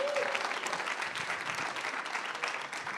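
Steady applause from an audience fills the whole moment, a dense wash of clapping hands with no pauses.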